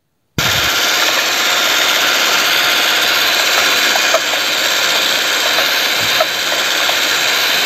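Cordless drill driving a homemade mustard seed spreader, a loud, steady mechanical whir held at constant pitch with faint clicks and small bumps, running alone without talk.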